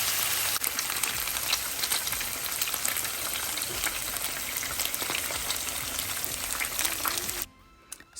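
Salmon fillets sizzle and crackle steadily as they brown in a frying pan, a dense continuous frying hiss close by that stops abruptly near the end.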